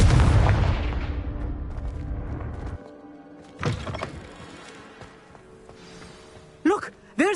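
Confringo explosion spell in Hogwarts Legacy, a heavy booming blast that rumbles and fades over a few seconds, followed by smaller thuds and brief magical whooshes later.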